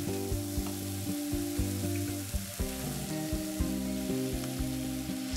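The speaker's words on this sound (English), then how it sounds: "I'm just letting these juices boil down a little bit more around" Chicken with olives and lemon frying in a pan, the juices sizzling and bubbling steadily up close with soft crackles and spits, no voice over it.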